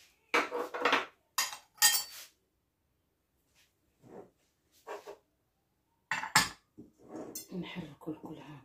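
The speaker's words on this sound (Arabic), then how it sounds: "نحركو الكل هكا، نخلطوهم مزيان" Brownie batter being mixed by hand in a bowl with a utensil, the clinks and scrapes coming in short bursts with pauses between them, and someone talks softly in a couple of gaps.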